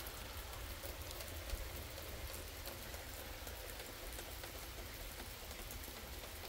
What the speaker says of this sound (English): I hear very heavy rain coming.